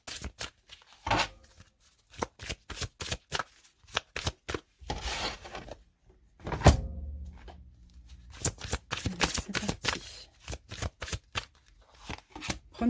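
Oracle cards shuffle in quick riffling bursts, close and crisp, with brief pauses between runs and no speech over them.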